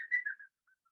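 A person whistles a short rising-and-falling tune for a parrot at an exotic animal workshop, a clear half-second whistle followed by a few faint fragments, close and alone.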